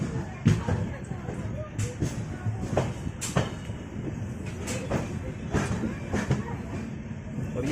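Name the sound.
train arriving at Jammu Tawi railway station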